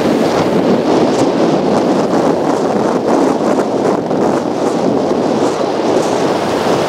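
Sea waves surge continuously outdoors, a loud rushing wash mixed with heavy wind buffeting the microphone, with no pauses throughout.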